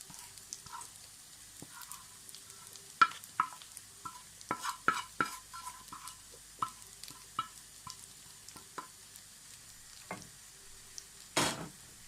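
Minced meat browned with onion sizzles softly in a frying pan, with scattered clicks and scrapes of stirring and one louder scrape near the end, close and fairly quiet, no talk.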